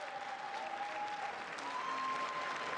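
Steady, dense applause from a large chamber audience at the State of the Union, continuous and even throughout, with a faint tonal whistle-like tone drifting over it.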